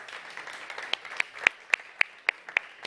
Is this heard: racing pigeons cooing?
no